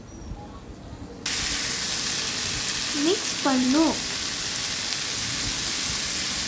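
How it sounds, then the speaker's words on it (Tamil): Ivy gourd being stir-fried in a pan, a steady hissing sizzle that starts abruptly after a quiet moment and runs on evenly, with a brief tonal chirp partway through. "அடிப்பு பிடிக்காம மிக்ஸ் பண்ணணும்."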